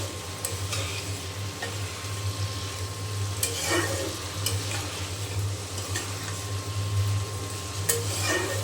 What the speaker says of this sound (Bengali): আলু কেটে দিয়ে এই যে ভাজিটা করে নিচ্ছি